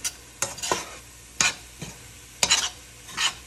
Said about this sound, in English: I'm gonna start mixing this together and just letting it saute in.